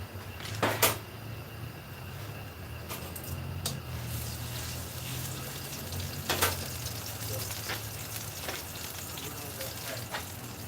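Meat sears on a hot barbecue grill with no onions or garlic added, giving a continuous hiss of fat and sizzle, broken by a few sharp clicks and clatters, while someone talks faintly in the background.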